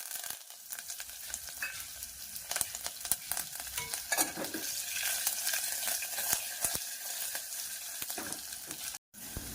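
Curry leaves crackle and sizzle in hot oil for a tempering of chukka varan, a steady frying hiss broken by sharp pops and spatters, close and moderately loud.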